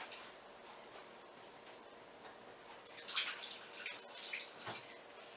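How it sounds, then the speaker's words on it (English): Tap water runs while hands are washed, a soft steady trickle that grows splashier and more broken in the latter half, close by and fairly quiet with no talking. "I'm going to wash up my hands."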